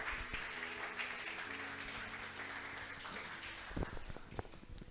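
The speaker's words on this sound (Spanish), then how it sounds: "Alguien le da un aplauso a Jesús por estas palabras." A church congregation claps for Jesus in a Spanish-language service, the applause fairly faint and diffuse with a low hum beneath and a few sharper claps toward the end.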